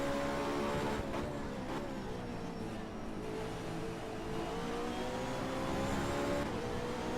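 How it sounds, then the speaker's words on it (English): BMW Z4 GT race car in a racing video game, its engine droning steadily with rising and falling pitch as it accelerates, loud and continuous throughout with no talk. "Let's just listen to this BMW for a second here"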